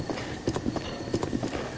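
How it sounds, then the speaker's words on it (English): Horse hooves galloping in Zelda: Breath of the Wild, a quick, rhythmic clip-clop of repeated hoofbeats, close and steady under a faint background. "now we can start sprinting on the horse"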